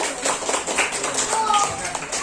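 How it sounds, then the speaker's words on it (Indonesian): Children in a third-grade classroom clap for a guest, a scattered, uneven patter of hands close by, mixed with voices talking and calling out over it. "Tepuk tangan untuk Bang Haji"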